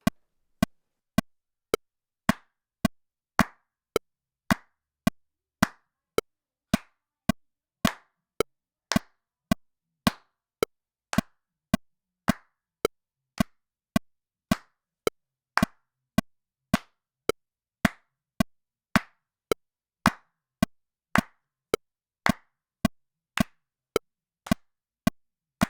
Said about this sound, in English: I don't want to quantize any of my claps, but I need to layer these so it sounds like a lot of people.